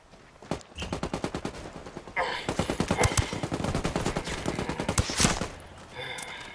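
Gunfire in an online shooter video game: rapid bursts of automatic weapon fire crackle repeatedly at moderate loudness, separated by a short gap, with game sounds mixed in.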